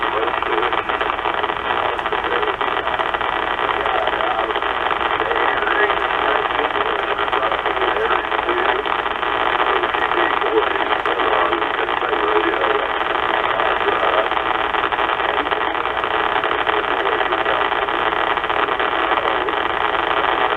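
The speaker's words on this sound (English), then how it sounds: "it's not anything unusual for me to turn it on and have 7S units of noise, just pure static." Dense, steady static hiss from a CB radio tuned to 27.415 MHz lower sideband, broadband and unbroken at a constant level for the whole stretch, with no clear voice coming through.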